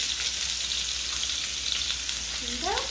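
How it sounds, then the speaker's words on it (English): Onions fry in a pan with a steady, close hiss of sizzling, while a spoon stirs them. Near the end a voice speaks briefly over the sizzle. "now I think the onions are ready to cook, and I have my spoon right here so I can mix it"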